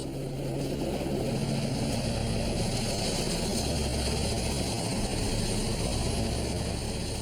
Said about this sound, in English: A fleet of helicopters arrives on the scene.